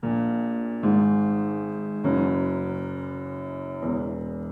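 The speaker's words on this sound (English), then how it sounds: "we've created a descending scale." Four sustained, rich tones sound one after another, each struck and left to ring, forming a slow stepwise descent played alone.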